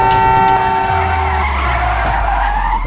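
Car tires screech in a long, loud skid during a chase, with engine noise close by and the squeal holding steady for about three seconds.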